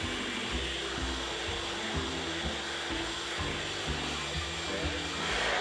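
Hand sander with a vacuum hose attached runs steadily, a close, continuous motor whir with rough sanding noise and a low pulsing hum throughout.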